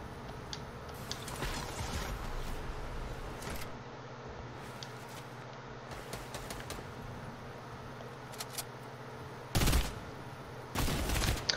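Unaimed hip-fire gunfire in a shooter video game, with scattered bursts of shots through the clip and two louder, denser volleys near the end, no talk.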